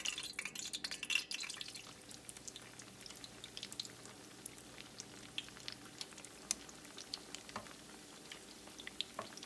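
Egg rolls drop into hot oil and fry, giving a faint, crackling patter of small pops and bubbling that starts a little louder and settles into a quiet, steady sputter.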